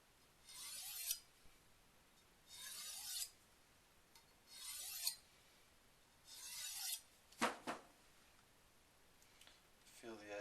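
A Henckels knife is drawn repeatedly along the grooved section of a honing steel at a slightly raised angle, five or six separate rasping strokes with short pauses between them, close and crisp.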